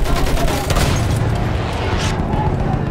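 Machine gun fire rattles in Battlefield 1 as dense, loud, rapid bursts over a booming battlefield din.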